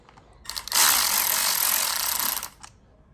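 Power tool driving the clutch cover bolts tight on a KTM 65 dirt bike, a single loud, sustained buzzing burst of about two seconds, close up, with no talking.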